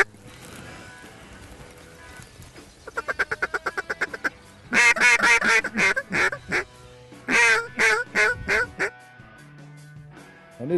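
Ducks on a cold Canadian duck hunt: a rapid series of close, loud quacks and honking calls in bursts, growing stronger over the second half with brief gaps between groups.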